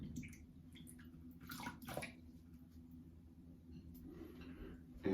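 Water runs and splashes faintly as a shaving brush is wetted at a sink, soft gurgling and trickling close by, quiet throughout.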